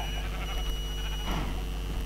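A white sheep bleats in the video game Minecraft, a short wavering animal cry over a steady electronic game hum with thin constant tones.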